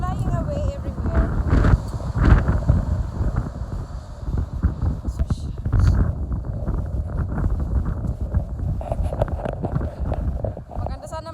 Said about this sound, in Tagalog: Maganda sana maglakad kaso mahangin.